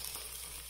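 A sliced medium onion hits hot oil in a pan and sizzles loudly and steadily in a brief, close burst of frying.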